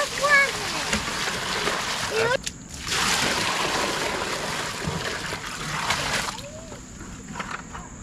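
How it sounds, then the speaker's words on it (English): Water pours from a bucket into a small dug watering hole for deer, making a sustained splashing gush that stops, resumes and then dribbles out near the end. "I'm gonna get some water in there now"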